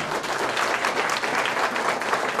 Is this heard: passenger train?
no